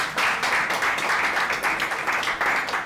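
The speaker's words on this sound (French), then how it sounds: "Faites un max d'applaudissements pour vous-même" A comedy club crowd in Kinshasa clapping hard and fast, dense continuous applause close by that stays loud for the full stretch.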